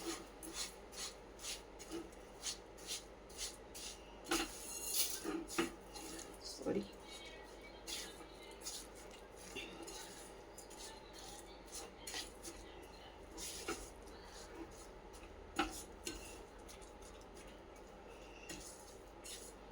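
A spoon mixes sugar into an amla (Indian gooseberry) mixture in a bowl, making steady rhythmic scraping and gritty rubbing strokes, close but soft, that slow and grow irregular as the mixing goes on.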